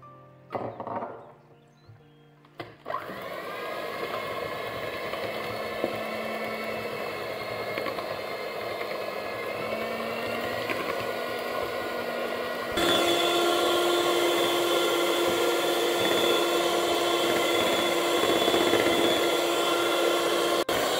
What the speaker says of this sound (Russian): Яйца с сахаром взбиваем